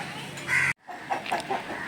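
A rooster clucking and calling nearby in short bursts, with a brief break partway through, at a Sunday poultry market in Nellore.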